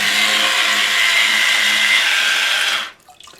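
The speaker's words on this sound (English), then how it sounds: "this was the PRASKY electric spin scrubber" A PRASKY electric spin scrubber whirs steadily and loudly up close as it scrubs with water, a continuous motorized swishing that cuts off abruptly near the end.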